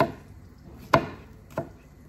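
A knife chops through an onion in a few sharp, separate strokes, spaced well apart over quiet kitchen background.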